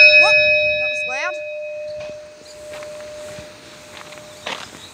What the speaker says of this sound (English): We've got a bell here.